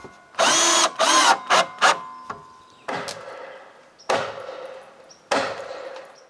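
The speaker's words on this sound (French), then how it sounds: "je le visse aussi en place" A power drill drives screws to fasten a post into a wooden dock at a cottage, with several loud, short whirring bursts followed by sharper knocks and fading rattles, close by with no talking.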